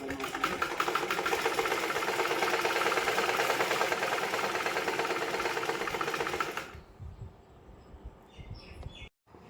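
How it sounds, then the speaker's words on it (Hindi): A sewing machine runs steadily while stitching the shoulder seam of a garment, a close, fast mechanical whir with a rattling rhythm for about six seconds. It then stops, leaving quiet room sound and a few faint clicks. "शोल्डर को जॉइन करके स्टिच लगा दूँगी यहाँ से यहाँ तक।"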